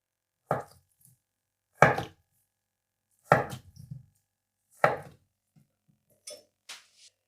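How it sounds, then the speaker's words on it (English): Four sharp knife chops on a cutting board at steady intervals, cutting salad ingredients into small cubes, followed by a couple of faint lighter taps; close and clear with no talk. "Cut it into small little cubes."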